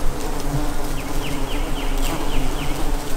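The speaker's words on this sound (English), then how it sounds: "Bumblebees, yellow jackets, little tiny black bees, flies." Hundreds of bumblebees, yellow jackets, tiny black bees and flies make a dense, continuous buzzing swarm, with individual insects droning close by against a steady background hum.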